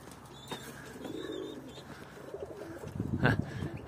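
Pigeons cooing softly nearby, with a louder burst of cooing and wing movement near the end as birds land, over faint background noise.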